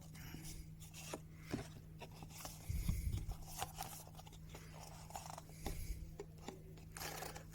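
Card template scraped and sliced with a scalpel, for scribing an antique wardrobe cornice moulding, quiet close scratchy strokes in short bursts with a couple of soft thumps, no talking.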